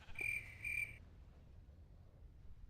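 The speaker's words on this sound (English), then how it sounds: "as you can hear, with the crickets, it's starting to get dark" Crickets chirp at dusk in Minecraft's Tekkit modpack: two short, thin, trilling bursts sound faintly over quiet ambience, then fade away.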